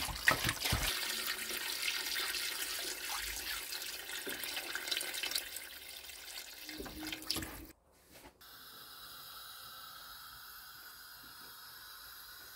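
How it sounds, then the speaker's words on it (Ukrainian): Tap water runs and pours into a cooking pot of aspic (kholodets) with bay leaves, peppercorns and salt. A steady splashing stream fills the first eight seconds, then stops, leaving a quieter hiss. "І заливаємо водою."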